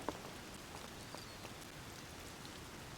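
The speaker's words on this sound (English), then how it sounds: "And it's raining for the next 3 cycles." Steady rain patters continuously inside a video game, a dense even hiss with scattered faint drop ticks and no voices.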